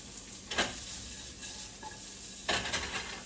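Guanciale (cured pork cheek) sizzles in a pan over low to medium heat, a steady close frying crackle with a couple of louder scraping stirs, no talking.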